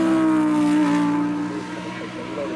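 A Lamborghini Aventador LP 780-4 Ultimate on a supercar uphill run at Goodwood Festival of Speed holds a loud, steady high engine note on throttle with the tail out, the pitch sagging slightly then wavering near the end.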